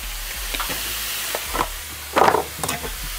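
Pork tenderloin fries in a pan with a steady hiss and sizzle, broken by stirring scrapes and a louder crackling burst partway through, close and clear.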